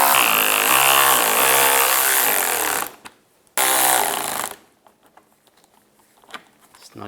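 A power tool tightens bolts during an oil pressure sensor replacement on a 2005-2007 Ford Five Hundred, giving a loud whirring burst, a short pause, a second burst, then scattered faint clicks and handling noises.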